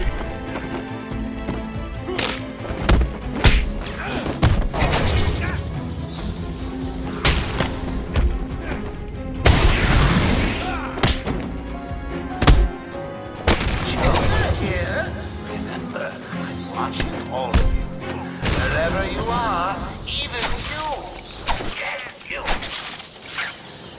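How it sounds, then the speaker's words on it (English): Gunshots ring out in the video game Batman Arkham Asylum, loud sharp bursts at an irregular pace mixed with other game effects and clatter throughout. "It sounds like gunshots."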